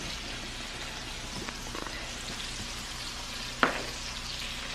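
Chicken cooking in a pan of balsamic sauce with butter gives a steady, close sizzle and crackle throughout, broken by a couple of soft taps and one sharp clink near the end, with no talking.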